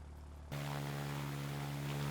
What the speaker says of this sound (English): See the Blenheim warming up his engines.